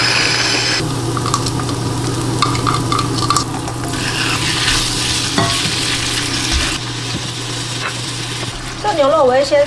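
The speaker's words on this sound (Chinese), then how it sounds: "先炒到大概七八分熟吧，不会到全熟" Loofah and egg are stir-fried in a wok with salt, goji berries and sesame oil. A loud, continuous sizzle mixes with the scrape of a spatula stirring, and a voice is briefly heard near the end.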